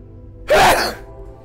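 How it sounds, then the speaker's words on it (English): One loud, sharp sneeze bursts out close to the microphone after a quiet moment, then fades back to a low hum. "I'm gonna sneeze."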